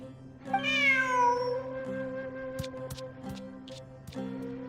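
A cartoonish cat meows in a video game, a single drawn-out mewing call standing alone over a steady game soundtrack, followed by light scattered clicks and ticks.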